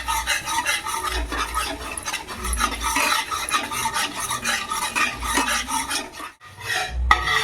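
Gram flour and Kashmiri chili marinade being stirred for homemade tandoori chicken, a steady close scraping and rasping of a spoon through thick paste, continuous with brief pauses and a sharp knock near the end.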